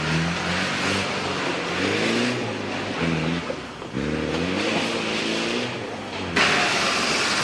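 Off-road vehicle in the 1988 Camel Trophy in Sulawesi driven hard, its engine roaring loud and close with repeated revving surges and a gear change, over continuous rough terrain noise.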